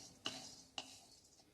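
Two sharp metallic clinks about half a second apart, a spoon scraping against a kadhai while roasted dal is taken out, fairly close and clear over quiet background.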